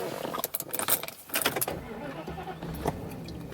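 Keys clatter and jangle in a short burst of metallic clinks inside a 1995 Mercedes-Benz S500 W140, then settle against a low engine hum.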